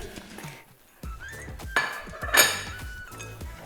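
Dark chocolate being stirred into oatmeal cookie dough in a bowl, with spoon clinks and knocks against the bowl, a sharp scrape and a clatter near the middle, no voices.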